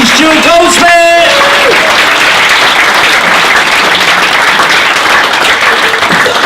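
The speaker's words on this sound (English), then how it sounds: "So if you start the applause, bring it right the way through the room as we welcome to the stage the very lovely Stuart Goldsmith!" A comedy-club audience in Gloucester breaks into loud, sustained applause to welcome a comedian to the stage, following a brief burst of voice and tonal sound at the start, with dense clapping filling the room throughout.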